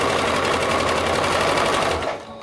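A sewing machine runs steadily and loud at close range, backstitching a seam on fabric for a baby romper, then slows and stops at the end with no talk.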